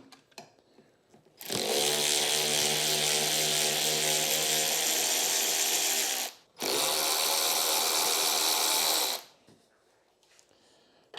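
A power wrench buzzes loudly in two sustained bursts while removing the bolts on the carburetor of a Sym Symba scooter. The first burst runs about five seconds and the second about three, separated by a brief pause, with quiet handling before and after.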